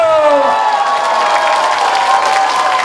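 A crowd applauds and cheers loudly, with clapping and shouts filling the short burst while a rising whistle-like tone sweeps over it.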